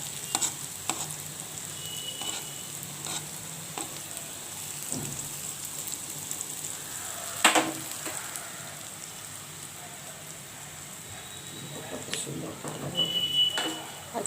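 Bean fritters sizzle and fry steadily in a pan with coriander leaves, green chilli and nigella seeds, with a spoon stirring and scraping now and then and a louder clatter midway, while a voice talks faintly in the background.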